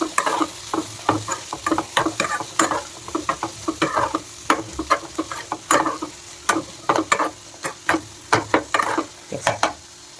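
Vegetables frying over a very low flame are stirred in a pan, giving a quiet, steady sizzle broken by frequent sharp scraping and clattering strokes of a utensil throughout, close by with no talking.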